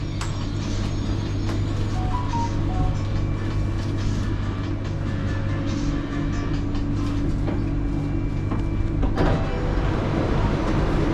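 Inside a high-speed airport rail link train at Putrajaya station in Malaysia, a loud steady hum and rumble of the carriage fills the space, with a brief door or mechanical clunk near the end.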